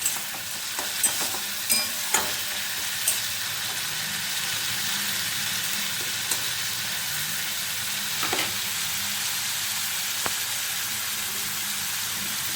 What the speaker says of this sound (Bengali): সব কিছুকে আমি ভালোভাবে ভেজে নিয়েছি 1 মিনিট